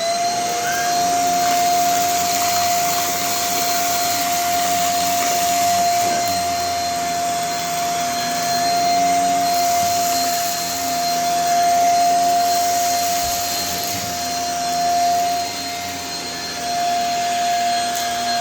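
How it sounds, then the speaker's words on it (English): A Shark Rocket vacuum cleaner with its powerhead runs continuously up close while cleaning up a big mess, a loud, steady whine holding one pitch, with slight shifts in strain as it moves. "then we're going to go back over and vacuum everything for one last time"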